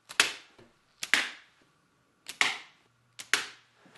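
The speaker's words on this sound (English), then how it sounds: "pull it back like this, aim, and there it is. Aim and fire." A toy ninja slingshot launches an arrowhead-tipped dart four times, each release a sharp, close snap of the band that quickly dies away, spaced about a second apart with quiet between shots.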